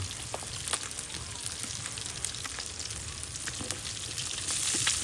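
Fish, likely tilapia, sizzles in hot oil in a pan: a continuous soft crackle with scattered pops and spits that grows a little louder toward the end. No one speaks.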